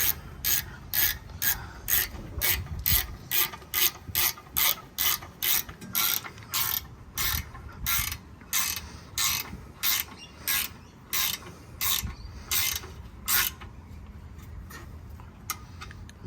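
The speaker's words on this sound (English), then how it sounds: "grab your spanner and tighten that down" A spanner ratchets steadily while tightening a brake bolt on a Mitsubishi Pajero 4WD, giving a long run of crisp, evenly spaced clicks with brief pauses, close and fairly loud, with no talking.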